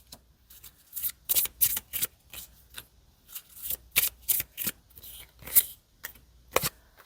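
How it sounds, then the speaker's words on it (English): Sibilla oracle cards shuffled by hand, a string of crisp riffling bursts in irregular rhythm with short pauses between, close and clear with no voices. "The remaining cards are then shuffled by the querent"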